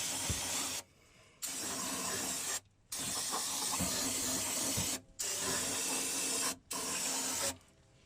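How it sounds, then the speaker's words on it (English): Brake cleaner sprayed onto the rear end of a 2006 Ford F350 during a fluid change, a close, steady aerosol hiss in several long bursts broken by short pauses. "I'm going to spray this down with some brake clean"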